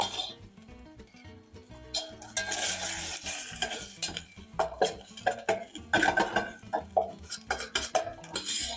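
Mint fries in a little oil while a utensil stirs and scrapes against the pot, producing repeated clinks and bursts of sizzle that grow louder toward the end.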